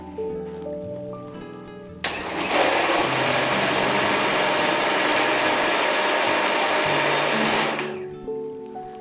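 A mixer grinder grinding chutney roars to life and whirs at a loud, steady pitch for several seconds, then cuts off, with soft music before and after.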